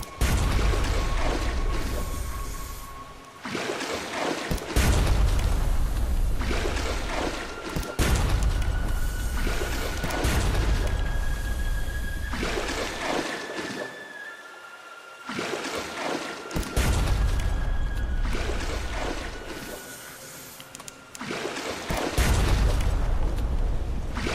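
Ship cannon fire and explosions boom during a naval fight against monsters in the video game Sunless Sea, heavy, dense blasts that roll on for several seconds at a time, broken by short lulls.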